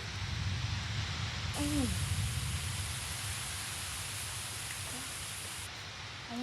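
Wind and rain from a thunderstorm in Iowa make a dense, steady roar, with a person briefly exclaiming near the start.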